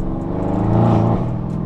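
Tuned Mercedes E63 AMG with a V8 biturbo engine rated at 750 hp, revving while driving, a loud continuous engine drone that swells in the middle and then eases slightly, heard from inside the car.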